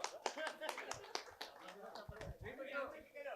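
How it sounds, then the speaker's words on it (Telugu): A small crowd at a prize-giving event gives a burst of scattered hand claps, uneven and close, mixed with voices talking over the clapping. "పట్టండి చప్పట్లు"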